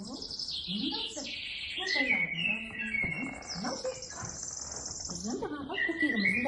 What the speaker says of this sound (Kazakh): Біздің жаңағы көкегіміздің дауысы бар